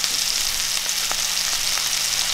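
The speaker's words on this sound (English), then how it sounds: "You wanna hear the sizzle." Squirrel pieces sear in hot oil in a pan, giving a loud, steady, close sizzle and crackle with no talking.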